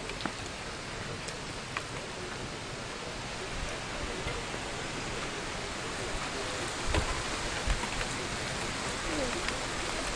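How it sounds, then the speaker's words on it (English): Steady rain pours down during a rainstorm, a dense, even hiss of drops on surfaces that holds constant throughout, with a few slightly louder spatters near the end and no voices. "It's raining."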